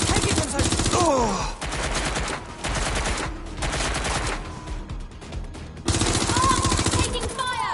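Heavy gunfire from a PS4 shooter game, with rapid machine-gun bursts and loud fusillades in several dense stretches, mixed with in-game voices and effects.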